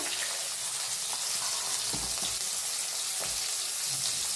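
Chopped onion hits hot oil seasoned with cumin for a village-style cluster bean (gavar) curry, giving a steady, close, bright frying hiss with faint crackles throughout.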